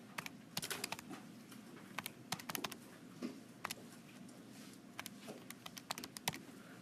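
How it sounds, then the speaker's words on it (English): Rapid irregular clicking of buttons being pressed on a calculator while numbers are entered, close and fairly quiet, with no talk over it. "So typing that into your calculator."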